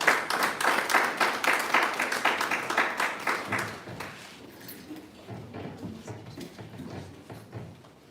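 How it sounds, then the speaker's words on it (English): Audience applause at a university hub commissioning ceremony, a dense burst of clapping that is loud for about four seconds, then thins into quieter, scattered claps and room noise. "A round of applause."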